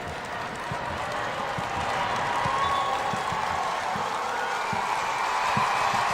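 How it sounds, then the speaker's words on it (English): Steady roar of a stadium crowd at a USA vs Canada international friendly football match, a dense continuous wash of voices with scattered claps and shouts, fairly loud and unbroken throughout. "It's loud. There's good crowd noise."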